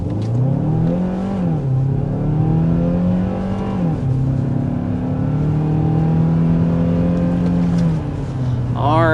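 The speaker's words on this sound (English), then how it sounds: "first we need to start with a hard acceleration" A 2026 Hyundai Palisade hybrid accelerates hard from inside the cabin, its engine drone rising in pitch, dipping at gear shifts and climbing again, loud and steady throughout.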